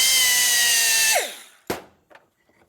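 Grinder ripping steadily across a 1972 Harley-Davidson XL Ironhead Sportster motor part, a loud harsh whine that winds down after about a second, followed by one sharp short burst and a fainter brief touch.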